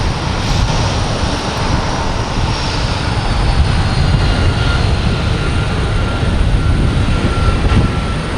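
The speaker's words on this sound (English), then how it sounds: "Alaskan Airlines heading to Portland." An Alaska Airlines Boeing 737 MAX 9 roars loudly and close at Boston Logan, a continuous, dense engine rumble with a high whine that holds steady throughout.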